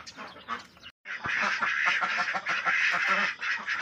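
Laying ducks on a farm quack in short nasal bursts, first a few separate calls, then after a brief gap a dense overlapping chorus from several birds, close and fairly loud.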